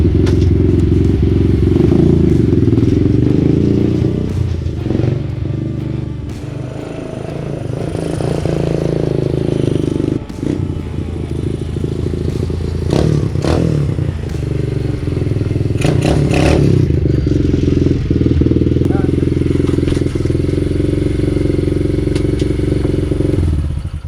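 A cheap beginner dirt bike engine running loud and close, a steady droning idle with blips of revving and some mechanical clatter throughout, with no voices over it.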